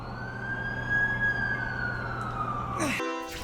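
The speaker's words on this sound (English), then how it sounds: "That's the ambulance I called." An ambulance siren wails steadily at a distance in The Amazing Spider-Man video game, holding one long tone over a low rumble before cutting off abruptly, with a short burst of other noise at the end.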